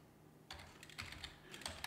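Typing a search query on a computer keyboard, with quick bursts of close, crisp key clicks in short groups after a brief quiet start.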